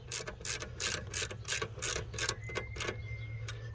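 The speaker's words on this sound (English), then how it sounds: "Now we're gonna go ahead and tighten down this bolt." A ratchet tightens a 13 mm bolt on a 2000 Subaru Legacy during an alternator replacement, giving a steady run of quick, close mechanical clicks in a regular rhythm over a low background hum.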